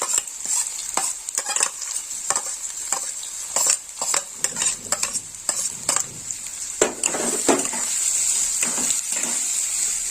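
Chopped onion and green chilli fry in a pan for a Bengali fish kalia, a steady sizzle running underneath repeated sharp scrapes and clinks of a spatula stirring, with no talking.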